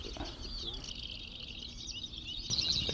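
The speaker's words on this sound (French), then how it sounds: "Donc voilà une panure à moustache, un magnifique mâle." Bearded reedling in an estuary reed bed, high thin chirping calls repeating over a faint background hum, distant and quiet, with someone speaking softly.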